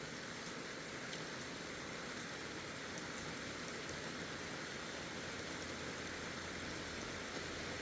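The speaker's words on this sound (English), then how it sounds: "You can hear the rain today. It's a rainy day up here in northern Maine" Steady rain falls outdoors on a rainy day in northern Maine near the Canadian border, a soft, constant hiss with faint scattered drip ticks and no talking.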